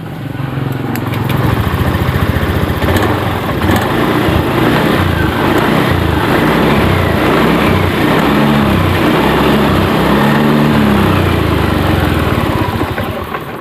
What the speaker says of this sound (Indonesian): Coba kita hidupkan lagi ya motornya.